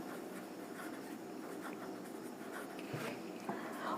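Pen or marker scratching across a writing surface while a linear polynomial is written out in standard form during a class 10 maths lesson, soft continuous strokes with small taps, faint and close.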